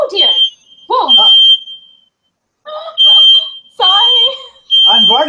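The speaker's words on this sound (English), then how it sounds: "her fire alarm is going off" A smoke alarm sounds indoors as a steady, piercing high tone that carries through the whole stretch, with people talking over it in bursts.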